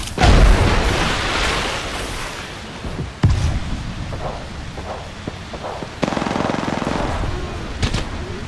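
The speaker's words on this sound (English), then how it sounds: "Look out, grenade!" A video game firefight with a loud blast at the start, a second sharp bang near three seconds and another near six, over steady crackling gunfire and rumbling background noise.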